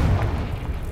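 A Confringo explosion spell in Hogwarts Legacy, a short deep boom with a rumbling low burst, loud and close, lasting about a second.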